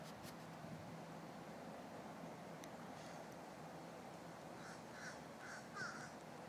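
Crows caw in a garden, their calls repeated and fairly distant over a steady outdoor background hum, clustering near the end.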